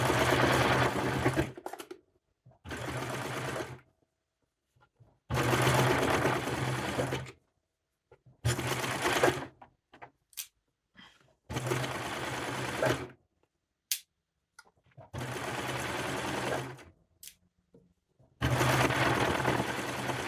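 A sewing machine sets in a long sleeve on a cowl-neck godet top with a long, narrow zigzag stitch, running in loud, close bursts of a few seconds each, separated by short pauses. Nobody speaks.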